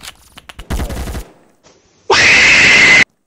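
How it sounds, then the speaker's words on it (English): Gunfire in the shooter game Phantom Forces: a short harsh burst early on, then after a pause a loud, dense stretch of rapid fire lasting about a second before cutting off abruptly. "Oh my god, he just got shot from behind."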